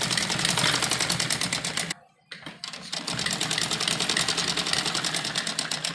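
An electric sewing machine runs a seam on a frock, a rapid, steady mechanical chatter that stops briefly for about a second, then resumes at the same fast rhythm, loud and close.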